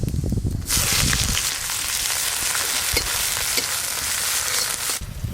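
Nigella seeds sizzle and crackle loudly in hot mustard oil for a tempering, a dense steady frying hiss close up with occasional sharp pops, no talking.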